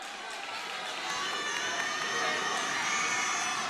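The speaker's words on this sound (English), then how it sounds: "Crowd getting loud here." Loud, steady roar of a high school basketball crowd during free throws late in a close game, a dense wash of cheering and shouting that swells slightly louder as it continues.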